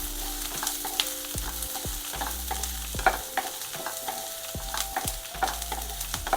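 Pepper, cinnamon and cloves are dry-roasted in a pan, with a steady light rattle and scrape of stirring, occasional sharper ticks and clinks, and a faint hum in the background.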